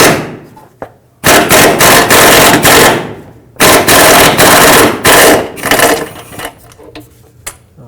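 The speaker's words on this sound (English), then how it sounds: "I'm going to sneak my air gun up in here and attempt to remove this bolt." Air impact gun rattling loose a 15mm sway bar bushing bolt on a 2005-2009 Chevy Equinox, two loud, close bursts of rapid hammering, each a couple of seconds long, separated by a quieter pause.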